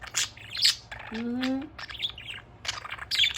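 A pet budgie chirps in short, bright bursts scattered across a few seconds, close by and fairly quiet, with a brief harmonic call in the middle and soft background hum.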